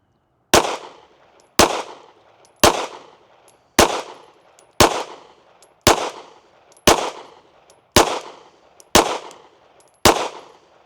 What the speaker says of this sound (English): Let's shoot another 10-shot group at the top left.